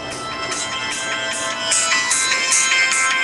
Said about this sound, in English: Cell phone's ringing for Kayla.